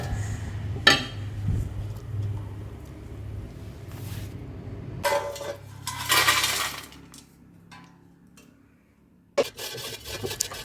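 Air-fried clam meat stirred in a non-stick pan, giving dry scraping and rattling bursts of pieces against the pan, close, with quiet gaps between movements and no talk.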